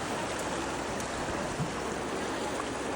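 Rushing water of the Puwa Khola fills the air in a constant, even roar heard up close, with no one speaking.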